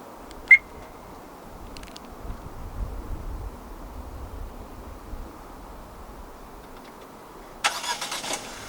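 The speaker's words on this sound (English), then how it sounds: "Standard for the O5 in Malaysia is a remote engine start system." A short beep from a remote start, then quiet outdoor ambience before the engine of a 2025 Chery O5 1.5 Turbo cranks and catches near the end, settling into a running rumble.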